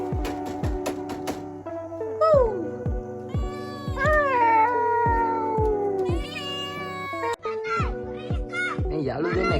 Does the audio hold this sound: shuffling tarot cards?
no